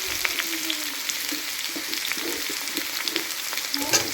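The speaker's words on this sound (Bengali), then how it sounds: "মশলাগুলো দিয়ে নেড়ে চেড়ে আর একটু নেড়ে চেড়ে নেবো" Green and dry chilli paste masala frying in a pan, a close, continuous crackling sizzle broken by light scraping from stirring, with no speech.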